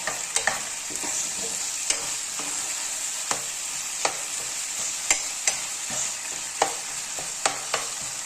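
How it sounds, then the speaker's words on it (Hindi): Minced mutton keema fries in a pan under a constant nearby sizzle, broken by sharp, spaced clacks of a spatula scraping and stirring. "ये 5 मिनट हो गया, मैं इसे भून रही हूँ।"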